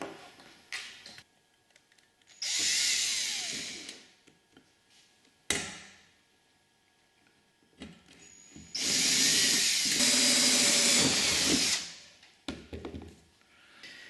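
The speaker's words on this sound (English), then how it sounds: "So I'm going to drill this one first and then find the hole there." A power drill whirs loudly in two bursts, the second one longer and grinding as it bites through a tube, with clicks and handling noise between.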